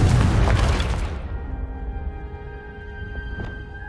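A Confringo spell blast in Hogwarts Legacy booms loudly at the start, a broadband burst that rumbles and decays over a few seconds into lingering ringing tones, with a brief crackle late in the tail.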